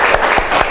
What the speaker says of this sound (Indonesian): Silahkan untuk tepuk tangan.